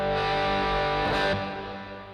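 Electric guitar through an amp-profile rig rings out with a distorted, sustained chord under heavy reverb, loud and close, then slowly decays over about two seconds with no voices.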